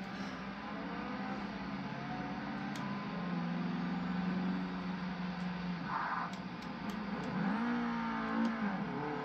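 A Mazda engine in the racing game Forza Horizon 3 drones steadily, with occasional rising revs over a constant background whir.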